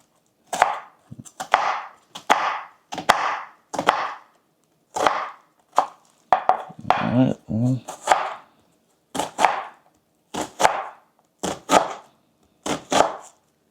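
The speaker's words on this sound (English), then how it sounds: "We can go ahead and dice it up." A knife dices an onion on a cutting board for guacamole, sounding as a series of close, crisp chops that come in quick bursts separated by brief pauses.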